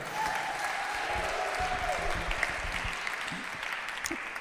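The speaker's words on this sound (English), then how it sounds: "So round of applause for Adam." An audience applauds at an event, a fairly steady, moderately loud clapping texture from a crowd, with a voice and other sounds faintly mixed in beneath it.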